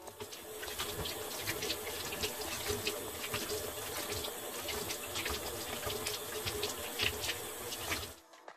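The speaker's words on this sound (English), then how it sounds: "Time to rinse off with water my face with mask from Banana and Honey." Tap water runs steadily into a sink while a banana and honey face mask is rinsed off, a continuous close gushing and splashing that stops abruptly at the end.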